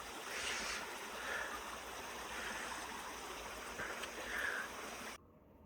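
Cold stream water rushing steadily over rocks on a trip to Idukki, a continuous broadband wash heard close with no talk, cutting off abruptly near the end.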